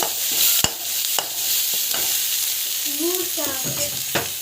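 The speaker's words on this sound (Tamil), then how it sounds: "நல்லா வந்து வதக்கிக்கோங்க." Onions fry in a pan with salt and asafoetida, sizzling steadily while a utensil scrapes and taps the pan now and then, and a voice speaks briefly over the frying.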